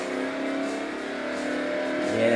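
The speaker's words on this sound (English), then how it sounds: "Now, listen to the engine carefully." A De Tomaso Pantera engine in the video game Forza Motorsport 3 drones steadily, rising into a louder rev near the end.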